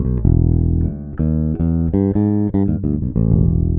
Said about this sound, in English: It's your Fender bass, which is running directly into the instrument input of this Prism Sound Lyra 2